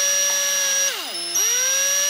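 Cordless power drill with its clutch set low, driving into a Ruger 10/22 rifle stock during a bullpup conversion; a steady whining motor drone that dips in pitch as it bogs under load, then recovers, close and alone.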